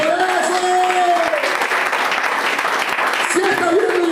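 A church congregation applauds at a sermon, a dense wash of clapping that fills the room while a preacher's voice rises over it at the start and end.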